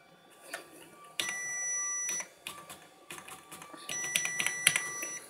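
Keys tapped on the keyboard of an old Texas Instruments data terminal, a few scattered clicks and short bursts with a steady electronic tone at times, fairly quiet and close, without talk.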